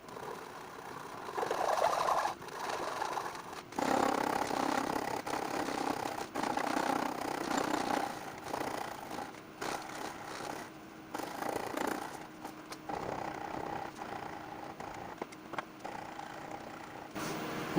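A Shinto rasp shapes a wooden guitar neck heel in repeated rough scraping strokes, close and rhythmic, with short pauses between bursts of rasping.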